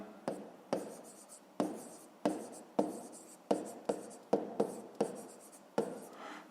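Pen writing on paper during a fifth-grade maths exercise, a series of quick scratchy strokes in an irregular rhythm, close and fairly quiet, with no talking.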